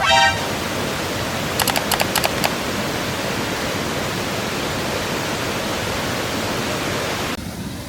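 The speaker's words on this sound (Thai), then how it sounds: "จะมองเห็นนวิวน้ำตก สายน้ำจะกระเด็นมา กระแทกหน้าเราเปี้ยงเปี้ยง" A waterfall at Pha Dok Siao on Doi Inthanon roars in a steady broadband rush, heard from a bamboo bridge, with a few brief clicks early on and a sudden drop near the end.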